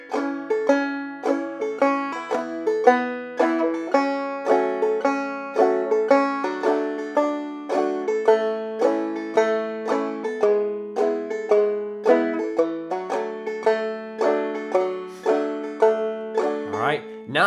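Clawhammer banjo plays a song with slides and hammer-ons, a steady bright rhythmic picking pattern of dense plucked notes and a drone, played solo and close for the whole stretch without talk.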